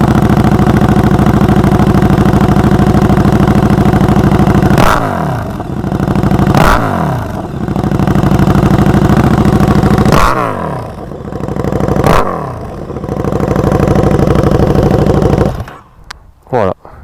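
Motorcycle engine revving hard while stationary, its exhaust raspy, dry and loud. The steady roar is broken by several sharp blips and drops, then cuts off near the end.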